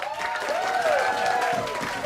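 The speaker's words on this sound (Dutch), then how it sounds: "Nee, echt het beste applaus." Audience at a Dutch comedy stage show claps on request, a steady wash of applause from many hands with a faint voice drifting over it, lasting about two seconds.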